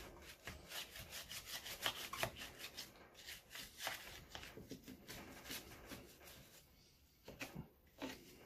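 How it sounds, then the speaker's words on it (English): A scrub brush works caked-on grime off a small engine part coated in Super Clean degreaser, giving quick rhythmic bristle strokes that rasp fairly softly and up close, with no one talking. "Just take the scrub brush and get in there nice and heavy."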